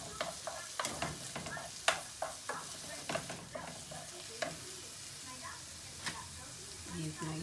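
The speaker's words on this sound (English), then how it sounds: "So I'm going to be putting the shrimp in." Shrimp with tails left on going into a hot pan, with a steady sizzle and frying hiss under repeated sharp scrapes and taps of a utensil stirring them, fairly close.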